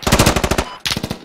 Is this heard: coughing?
no